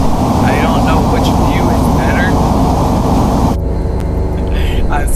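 An F/A-18 Hornet jet engine in Microsoft Flight Simulator 2020 roars loudly and steadily, a dense broadband drone that holds throughout with a slight tonal shift near the end, while a person talks over it.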